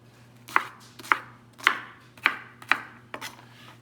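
Onions and mushrooms are chopped with a knife on a board for a savory stroganoff. Six crisp, evenly spaced chops ring out close and clear over a faint steady hum.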